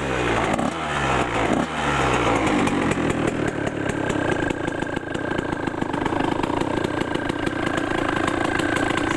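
A 1999 Yamaha YZ125 two-stroke dirt bike engine runs loud and close, with a rapid buzzing idle and a couple of brief revs near the start before it settles into a steady, raspy tick-over.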